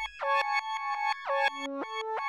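A bright, buzzy synth arpeggio played in reverse in FL Studio for a hard Atlanta trap beat, each note swelling up and cutting off sharply in a steady pulsing rhythm, loud and alone.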